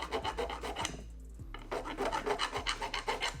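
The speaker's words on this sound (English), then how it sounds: "We can just grab a file and smooth that right out." A metal file rasps back and forth over a burr on a dirt bike shock shaft in steady close strokes, with one brief pause partway through.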